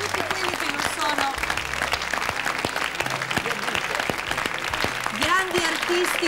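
An audience at a 2000 tribute show for Nunzio Filogamo breaks into sustained applause, dense clapping over the whole stretch, with a voice speaking over it at moments.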